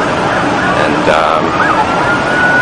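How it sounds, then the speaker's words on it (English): A wailing police siren rises and falls through dense crowd babble and traffic noise near the World Trade Center on 9/11, continuous and fairly loud, like police vehicles passing nearby. "now there's a lot of police activity and sirens"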